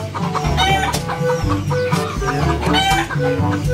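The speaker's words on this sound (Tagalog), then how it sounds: "Ang ingay ng manok" A flock of chickens clucks busily and continuously, close and loud, with overlapping calls and a rooster-like crow mixed in.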